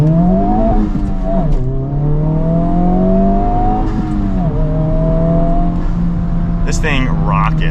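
A 2024 Honda Civic Type-R accelerates hard on a test drive, its engine note climbing loud and steady through gear changes, with a brief whoosh near the end.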